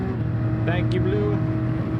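Bugatti Veyron race car in Gran Turismo 7 holding a steady engine drone along a straightaway, a continuous close hum with a brief higher whine midway, while voices talk over it.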